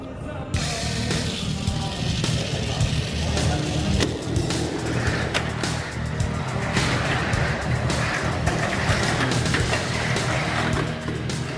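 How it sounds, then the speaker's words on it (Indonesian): A model race car with a Torque Tune 2 Pro motor, run without brakes, laps a track with a tabletop jump. Its motor gives a loud, continuous high whine with surging passes and bits of clattering. "Dengan menggunakan Torque Tune 2 Pro motor, mobil dapat berlari tanpa masalah yang berarti."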